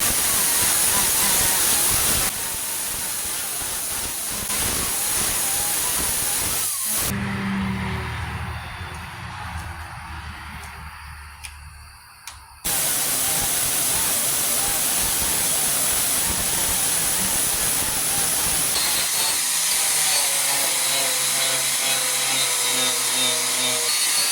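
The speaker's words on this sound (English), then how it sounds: "start sanding that down, cutting it out" Loud power-tool grinding and sanding on rusted vehicle sheet metal, with a change in tone partway through and a quieter pause before cutting resumes.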